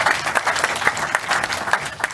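An audience applauds a panel of experts with brisk, close clapping that continues steadily for a couple of seconds.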